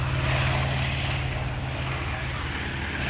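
Drone of Grumman Tracker propeller aircraft engines, a steady, loud, continuous rumble with a low hum that holds without a break.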